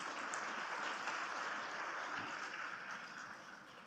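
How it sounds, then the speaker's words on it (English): Faint, somewhat distant applause from a university convocation crowd for an absent medal recipient, an even rustling patter of many hands that gradually eases toward the end. "So give him a big applause."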